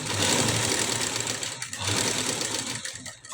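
A sewing machine runs steadily and loudly up close while stitching a collar blouse, its needle making a fast continuous rattle that eases briefly twice before starting up again.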